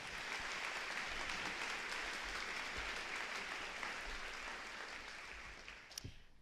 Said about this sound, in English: One more round of applause for our teachers